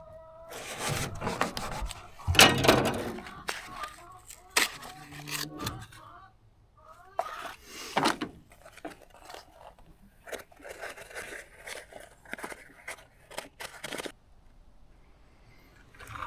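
Cutting open a part from a hydro turbine produces bursts of scraping, rasping and rubbing with short pauses between, close and fairly loud, with a brief louder stretch early on.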